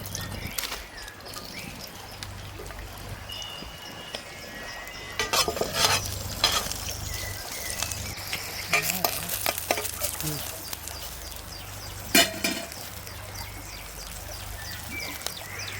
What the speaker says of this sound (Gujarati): તો આપણે થોડુંક તેલ લઈ લેવું મરચાંના સંભારા માટે. આપણે મરચાં નાખી દેવું.